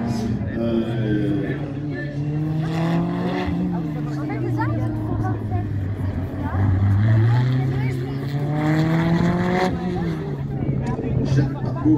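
A Fiat Campus single-seater race car works through an autocross slalom at Ancenis, its engine note rising and falling steadily through gear changes while a commentator talks over it continuously.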